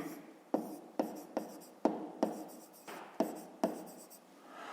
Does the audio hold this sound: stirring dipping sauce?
no